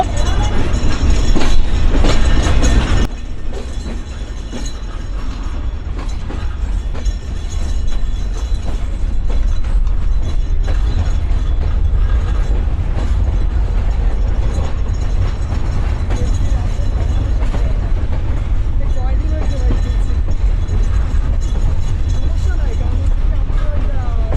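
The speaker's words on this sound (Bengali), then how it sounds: "এখন কিন্তু আমাদের ট্রেনটা পাকশি রেল স্টেশন থেকে ছেড়ে দিল" Train pulling out of Pakshi railway station in Bangladesh, a loud continuous rumble of wheels and carriages with a brief rise at the start, with voices over it.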